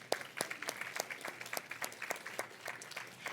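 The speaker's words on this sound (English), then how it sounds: "So let's give them a round of applause." Faint church congregation applause, a thin scattering of individual claps in an irregular patter for a few seconds, heard from a distance in a quiet room.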